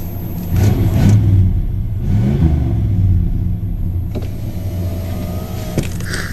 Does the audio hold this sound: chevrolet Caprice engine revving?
yes